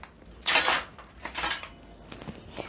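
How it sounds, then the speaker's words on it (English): Metal cutlery rattles and clinks as a knife is picked out from among other utensils, several close bright jangles in quick succession. "I'm going to pick a knife"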